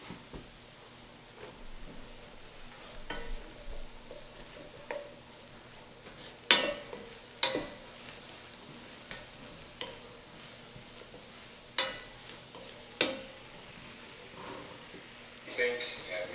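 Mushrooms fry in butter in a hot pan, sizzling softly under repeated sharp stirring scrapes and clatters of a utensil against the pan, with people talking in a kitchen.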